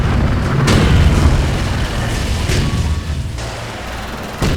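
Railgun bombardment explosions in the WWII strategy game Sudden Strike 3, a loud continuous rumbling roar with repeated heavy booms rising out of it.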